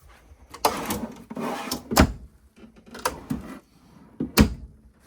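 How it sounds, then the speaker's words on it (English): RV drawers inside a Holiday Rambler 44B motorhome sliding open and shutting, several close thumps and rolling slides with quiet gaps between them, no talk. "And then we have drawers."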